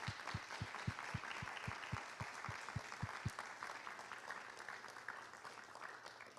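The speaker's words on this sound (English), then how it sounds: "can you please join me in giving them another round of applause?" Faint, distant applause at an honors convocation, steady from a crowd, with a regular low thumping running through the first half and fading after.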